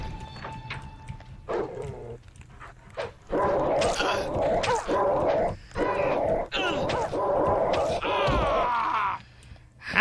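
A guard dog in the Doom mod game WolfenDoom Blade of Agony barks, growls and snarls in a string of loud, rough bursts over several seconds, with game sounds underneath.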